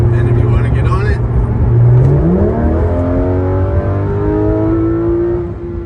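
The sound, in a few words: Porsche 911 GT3 RS accelerating hard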